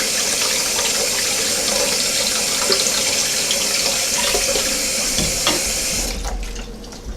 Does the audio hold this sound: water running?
yes